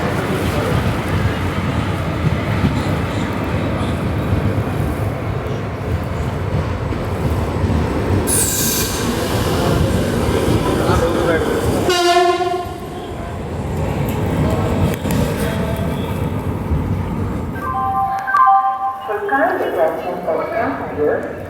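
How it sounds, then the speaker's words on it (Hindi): The Marathwada Express rumbles and clatters steadily as it pulls out of Mudkhed Junction, heard close from inside a general-class coach, with squealing wheels, brief whistle-like tones and a passing rush partway through. "ट्रेन नंबर 172 2 मिनट की देरी से 5:02 पर निकले हैं मुदखेड़ जंक्शन से"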